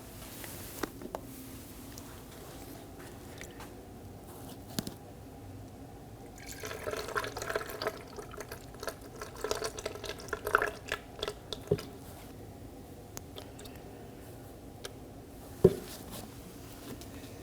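Coolant pours through a funnel into the reservoir of a 2.5L Ford Transit Connect, a faint gurgling trickle with scattered drips that swells briefly in the middle.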